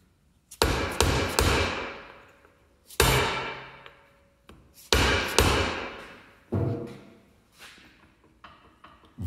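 A hammer taps on an ARB locker part during gear setup on a Jeep Wrangler TJ Dana 30 axle. The strikes are sharp, ringing and metallic, land close by in quick pairs and small bursts, and fade between groups.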